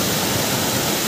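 Water bubbling and gurgling up through the ground where a buried tap sits on a rainy hillside in Bageshwar, Uttarakhand, a steady close rushing wash with no pauses.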